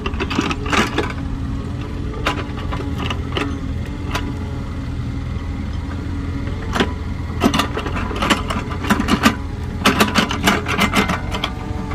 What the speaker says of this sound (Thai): นี่ขับแมคโครเองเลยครับ